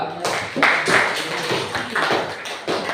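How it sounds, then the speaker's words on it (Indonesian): A group claps for a classroom team, with uneven bursts of hand claps and taps swelling and fading in short waves, close and moderately loud. "Oke, tepuk tangan untuk kelompok 2."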